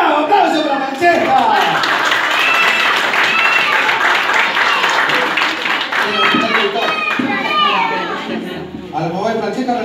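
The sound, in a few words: audience applause after a magic trick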